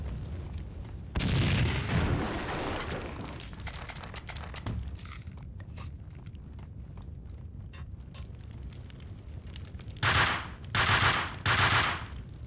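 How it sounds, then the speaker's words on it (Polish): Gunfire and exploding barrels in the video game Max Payne 2: a loud blast and rumble, then scattered shots and debris crackle, followed by several more heavy bursts near the end. "Na razie postrzelamy te beczki. Wybuchają wszystkie."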